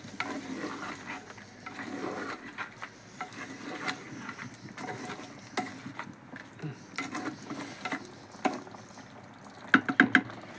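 Chicken curry stirred in a pan, with a spoon scraping and soft sizzling and bubbling, quiet and close, in irregular strokes.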